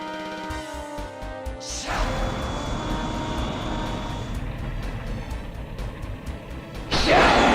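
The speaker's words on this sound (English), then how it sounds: "Complete with goofy-ass flying airplane sounds." An Ultraman fighting video game plays goofy flying airplane sounds: a swelling engine-like whoosh takes over after a brief musical opening and holds steady, then a louder burst near the end.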